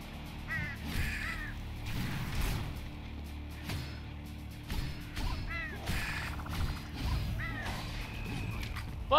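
Birds caw in the video game Slain: Back from Hell, repeated harsh calls scattered among clanging combat crashes, metallic hits and a busy game soundtrack.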